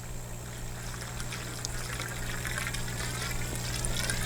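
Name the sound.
water flowing out of a hose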